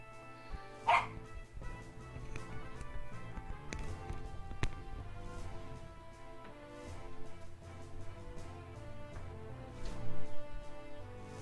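A small dog gives a sharp yip followed by scattered barks and whimpers indoors, faint and intermittent against a steady background of video game music.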